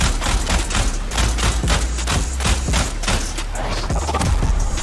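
Burston Prime rifle in the video game Warframe firing in rapid bursts, a dense run of punchy, booming shots repeating steadily without pause, loud and close with no talk over them.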